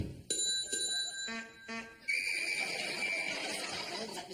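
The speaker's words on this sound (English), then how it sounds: "That was 2 clumps with her walking stick, 2 rings on the bell, 2 hoots on the horn, and 1 whistle" Household signals in quick succession: two bright bicycle-bell rings, two hooting horn blasts, then a long shrill whistle, with a couple of muffled walking-stick clumps at the start, all close and fairly quiet.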